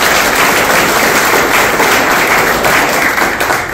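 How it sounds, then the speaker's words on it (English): Loud, close, dense applause at a robotics meetup as the organizing team is presented, clapping continuous for the whole stretch with no talk. "please give a big applause to all the team."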